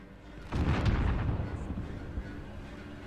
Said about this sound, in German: das ist eine andere Explosion